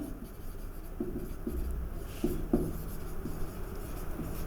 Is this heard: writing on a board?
yes